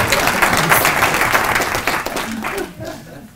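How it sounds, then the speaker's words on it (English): Dense audience applause at a university professorial inauguration ceremony, loud at first and then fading away over a few seconds. "Please stand up so that you could be seen and be applauded."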